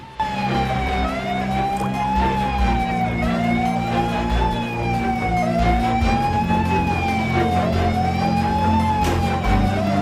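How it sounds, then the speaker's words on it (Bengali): Fire engine sirens wail continuously, loud and close, as engines arrive at a third-floor fire in a market building in Mangalahat, Howrah, with vehicle and traffic rumble underneath. "ঘটনাস্থলে পৌঁছায় দমকলের 8টি ইঞ্জিন।"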